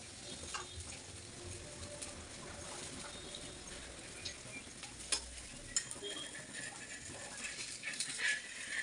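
Thalipattu flatbread frying in oil on a hot griddle pan for a North Karnataka breakfast, a steady close sizzle and crackle with a few louder pops and scraping touches, no talk.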